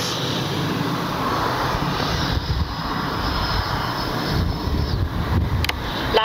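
A Freewing MiG-29 radio-controlled jet with twin 80mm ducted fans flies past, a continuous whooshing fan whine with wind buffeting on the microphone and slight rises and falls in level.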